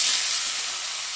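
Bottle gourd leaves hitting hot oil in a pan for a vegetarian chorchori, giving a loud, steady broadband sizzle and hiss that holds for the whole moment and fades only slightly, with no talk.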